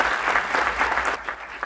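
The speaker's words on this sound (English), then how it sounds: "Let's give our panelists a round of" A round of audience applause for panelists at a tech fellowship demo day, a brief burst of steady clapping from a modest crowd that thins out toward the end.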